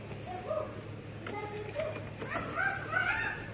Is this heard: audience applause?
no